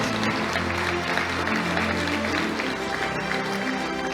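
Steady applause from a sizable crowd at an engineering awards ceremony, dense clapping that holds at an even level throughout.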